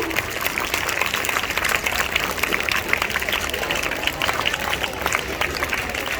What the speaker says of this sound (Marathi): आपण जोरदार टाळ्या वाजवून त्यांचं स्वागत करूया